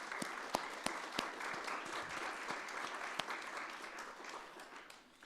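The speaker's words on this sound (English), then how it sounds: "So let's begin with a round of applause for all of you." Audience applause at an innovation celebration event, a steady crowd clapping with a few sharp, distinct claps standing out near the microphone, gradually easing off toward the end with no talk.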